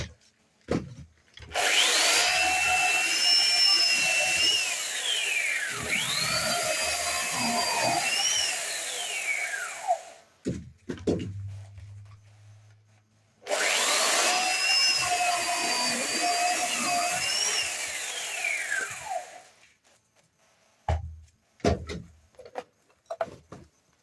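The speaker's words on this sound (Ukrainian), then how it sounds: "Чудова пилочка. Ріже легенько." A small hand saw cuts wood in two long sustained bursts of close, rasping back-and-forth strokes with a whining edge, separated by a pause and followed by a few knocks.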